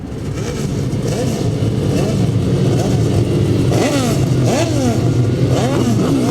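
Pre-75 grasstrack racing motorcycles rev and accelerate through a heat, several engines overlapping in rising and falling whines that grow louder and busier as the bikes pass close by.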